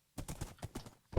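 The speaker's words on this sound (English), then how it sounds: "let me get rid of this stupid horse" Minecraft horse making a short burst of soft, close hoof-like clops and a brief snort-like sound, lasting about a second.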